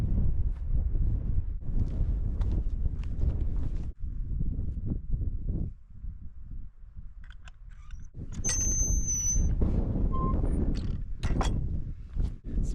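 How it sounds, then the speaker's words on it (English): Strong wind of over 40 mph at a campsite buffets the microphone in loud, rumbling gusts that ease briefly midway, then return with faint rattling and distant chirps. "It's a bit windy."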